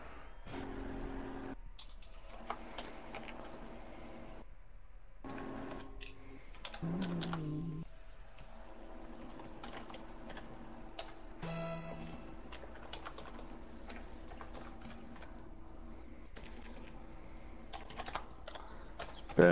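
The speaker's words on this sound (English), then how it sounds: "I'm just typing something out of my mum's computer." Typing on a home computer keyboard, rapid irregular key clicks running steadily throughout, fairly close, with a few brief pauses and some soft background noise.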